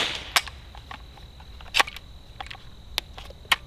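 Suppressed subsonic .22 rifle rounds fired through a compact Rebel SOS 22 silencer, sounding as several short, sharp cracks spaced irregularly over a few seconds, fairly quiet and with no talking.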